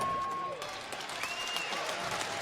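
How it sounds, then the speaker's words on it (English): A large crowd at an indoor archery world cup final in Las Vegas applauds in a brief, dense burst, with scattered whistles and a commentator's voice over it. "Nice round of applause from this"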